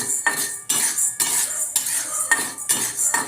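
Sago pearls being stirred and roasted in a pan, with a utensil scraping the metal in repeated close strokes and short pauses between them, and no voices.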